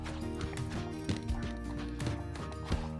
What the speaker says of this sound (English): You can just hear it, plop, plop, plop, plop, plop.